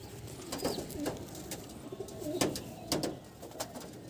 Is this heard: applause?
no